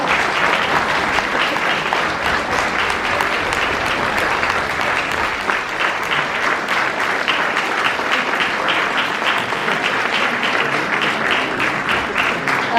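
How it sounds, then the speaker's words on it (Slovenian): Sustained audience applause at a charity concert, a thick, even wash of many people clapping that carries on steadily for over twelve seconds without talk. "En aplavz za spodbudo."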